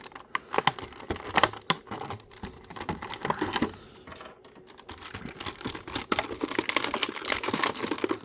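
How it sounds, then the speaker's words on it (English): An action figure being worked free of a tight, rigid plastic packaging tray: a dense run of close, crackling plastic clicks and snaps that comes in bursts, pauses briefly, then resumes, with no one talking. "these new plastic packages are really, these new trays are really tough to get this stuff out of."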